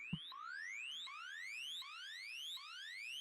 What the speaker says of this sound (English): I think here I also have this sine wave sound with unison, making it a bit stereo